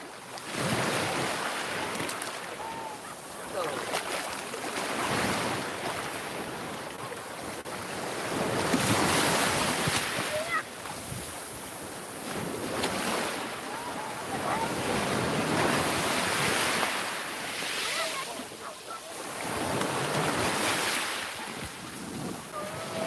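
Strong sea waves surge and break at Jeongja beach in Ulsan, a steady loud roar of surf swelling in repeated waves with wind buffeting the microphone.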